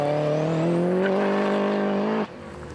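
A Subaru Impreza STI 5 Type R with self-made modifications screams around a handling course, its engine revving steadily higher with a smooth rising whine before cutting off abruptly, loud and alone.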